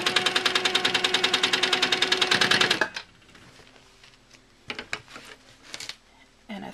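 A sewing machine with a quarter-inch foot stitches in the ditch along a quilt seam, running in a fast steady burst of even mechanical clatter for about three seconds, then stopping; quieter handling clicks and rustles follow.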